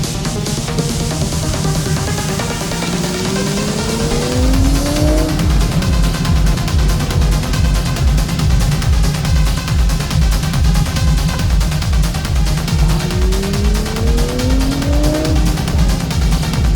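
A 2025 Nissan Z NISMO twin-turbo sports car driven hard, its engine loud and close, climbing through revs in two strong pulls with tire squeal and a steady rumbling drone between them.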